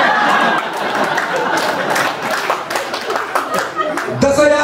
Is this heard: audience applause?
yes